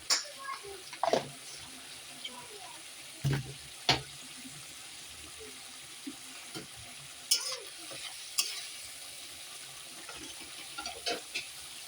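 Spice paste with cumin and turmeric frying for a bhola fish curry, a low sizzle broken by sharp scraping stirs and clinks at irregular moments, close and quiet, with no talk.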